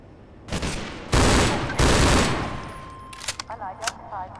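Pulse rifle firing in Half-Life 2 with a cinematic mod, heard as a few loud close bursts with decaying tails, followed by faint game beeps and chirps.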